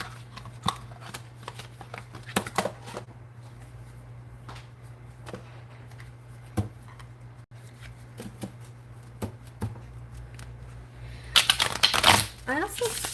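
Tarot cards shuffled in short bursts of riffling and soft snapping taps spread through the stretch, close by, with a steady low hum underneath and a louder flurry of handling near the end.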